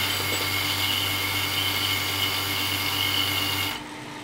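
A vacuum pump hums steadily with a constant mechanical drone and tonal whine, then cuts off abruptly near the end, leaving a quieter background.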